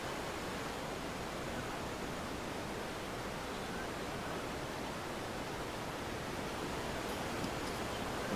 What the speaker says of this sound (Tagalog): Kaya lang medyo malakas yung alon, kaya delikado.